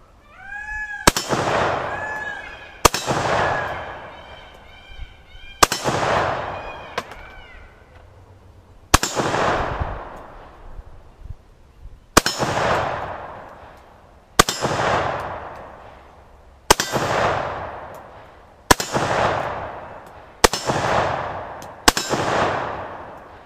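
Loud single rifle shots from an Inland Ordnance AK47 fired at steel silhouette targets outdoors, about ten evenly spaced cracks each followed by a ringing metallic ping and a long fading echo.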